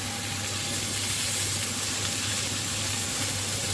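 Steady, dense sizzle of meat searing in a hot pan for a Niçoise salad, an even broadband hiss with a low hum beneath, continuous and close throughout.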